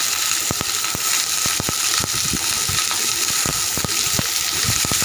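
Cut potatoes hit hot oil in a pan with green and dried chillies for aloo chechki, producing a loud, continuous sizzle peppered with sharp crackles and pops.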